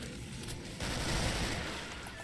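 Dual pistols firing in the Killing Floor video game on the swamp map, a quiet burst of rapid gunfire rising after a short pause and rattling on in a dense, steady stream.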